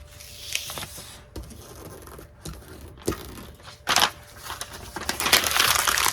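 Sticker paper being pressed down and smoothed onto a board by hand, heard as close crinkling, crumpling and scraping rustles in irregular bursts that grow busier and louder toward the end.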